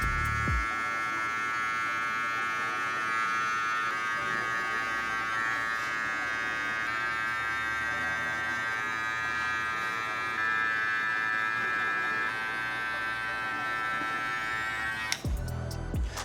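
Electric hair clippers fitted with a 1/2 guard buzz steadily and loudly while cutting a fade on a child's hair, a continuous close hum that cuts off abruptly near the end.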